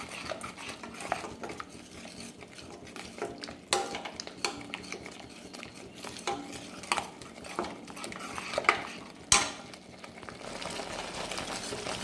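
Fish curry masala stirred in a pan, heard as continuous close scraping and clinking of a spoon against the cookware with soft frying hiss underneath, sharper knocks every few seconds.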